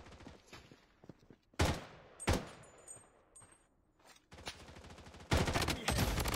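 Gunfire in the mobile shooter Blood Strike: loud, close bursts of automatic fire and single sharp shots, with a sustained fusillade toward the end and no talking.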